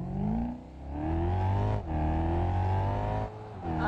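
A car with a 5-litre engine accelerates in the BeamNG.drive video game, its loud engine note rising in pitch in sustained pulls with brief dips between gear changes.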